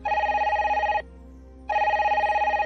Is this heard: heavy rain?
no